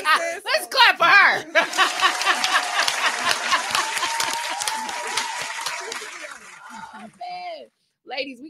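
Clapping from an audience during a runway fashion show broadcast, a sustained burst of hand claps beneath someone talking and laughing, fading out toward the end as her voice continues alone.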